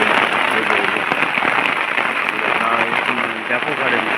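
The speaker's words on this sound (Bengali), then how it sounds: "আর এই বৃষ্টিতে কী করে যাবো বাইরে, প্রচণ্ড হারে বৃষ্টি হচ্ছে।" Heavy rain pours down steadily, a loud continuous hiss and patter on surfaces throughout, with a voice talking over it.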